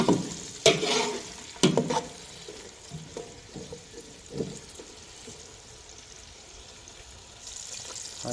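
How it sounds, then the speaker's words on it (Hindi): Onions fry in a pan, a soft continuous sizzle broken by a few sharp spatula knocks and scrapes early on, then settling into a quieter steady hiss. "और हमने प्याज को भी 3 से 4 मिनट भून लेना है।"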